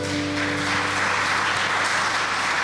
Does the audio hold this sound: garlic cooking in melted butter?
no